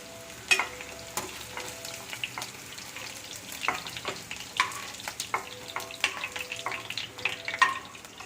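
Chicken pieces frying in a pan for a coriander lemon chicken snack, a moderate crackling sizzle with scattered pops and the clatter of stirring, close and without speech.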